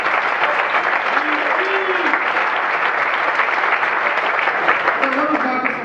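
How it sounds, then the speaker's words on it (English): A crowd at a Ride Across Wisconsin cycling event night applauds steadily and loudly for an introduced guest, a dense, even wash of clapping that holds for the whole stretch, with a few whoops rising near the end. "And I think Dave Jablonowski, so give him a round of applause."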